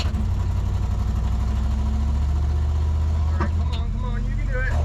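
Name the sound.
1979 Ford Mustang engine running, struggling above 2000 RPM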